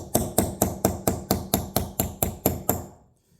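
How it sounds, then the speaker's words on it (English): A hammer strikes a punch driving a pin on a tractor PTO shaft: ten sharp metallic blows in a steady, even rhythm, close and loud, then the ringing fades to quiet. "I can work the pin back and forth with a hammer and a punch"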